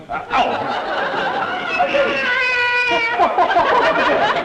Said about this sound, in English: Oh, it was only a cat.